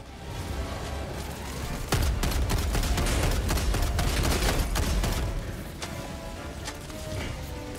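An autocannon sentry in Helldivers 2 fires a dense, continuous barrage of heavy gunfire with booming impacts. The battle noise stays loud for several seconds, then eases slightly near the end.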